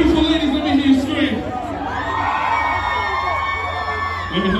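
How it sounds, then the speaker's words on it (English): A large crowd of women at a concert at the Sheraton Hotel screams and cheers loudly, with high-pitched whoops and yells rising over a continuous roar of voices. "Oh, my beautiful ladies, let me hear you scream."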